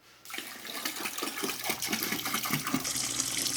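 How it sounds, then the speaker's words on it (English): Broth poured into a soup bucket, a steady splashing liquid pour that starts after a brief quiet moment and continues loudly to the end, with no voices. "Now we add a little bit more broth."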